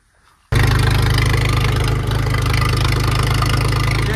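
A combine harvester engine on a wet field cranks and catches abruptly after a brief quiet moment, then settles into a loud, steady, throbbing idle close by.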